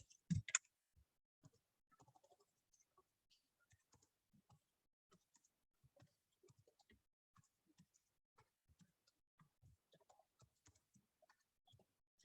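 Soft, sparse keystrokes on a computer keyboard, tapped at an uneven pace with small pauses, quiet and close with no talking, opened by a louder click or two.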